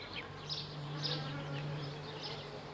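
Flies buzz in a quiet indoor room, a faint, wavering drone that rises in short swells as they pass close, over a low steady hum.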